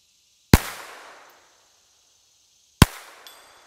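A pistol fires at a 3-inch steel plate 100 yards out on an outdoor range, two sharp, loud reports about two seconds apart, each trailing off in a decaying echo, with a faint click soon after the second.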